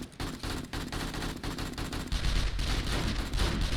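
Rapid gunfire with AP rounds in 7 Days to Die, dense continuous bursts from base turrets and weapons that thicken and grow heavier in the second half, with no talk.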